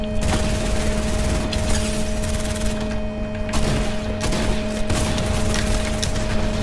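Gunfire in the Fortnite Battle Royale game, a loud rapid fusillade of shots in repeated bursts over a constant electronic hum.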